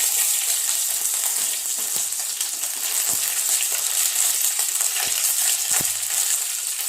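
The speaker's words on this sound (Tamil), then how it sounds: "கடுகு போட்டோன்னே இப்போ வந்து வெடிக்க ஆரம்பிச்சிருச்சு" Mustard seeds and curry leaves crackle and sizzle steadily in hot oil, with a dense hiss and scattered sharp pops close by.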